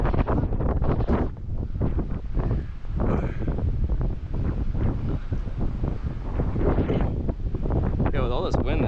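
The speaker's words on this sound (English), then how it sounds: "with all this wind, this shit sucks." Strong gusts batter a microphone outdoors, producing a loud, continuous roaring rumble with buffeting surges throughout, while a voice talks over it.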